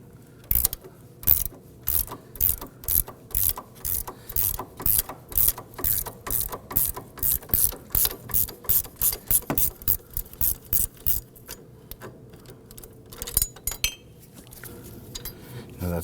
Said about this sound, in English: We use our 15mm gear wrench on the nut, and we're going to use our number 5 Allen key here on our